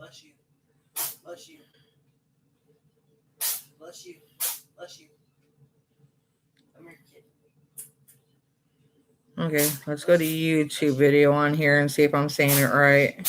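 Three short, sharp sneezes spaced a couple of seconds apart in a quiet room, followed by a person talking.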